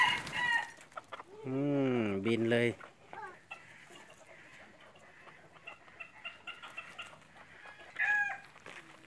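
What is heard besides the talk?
junglefowl clucking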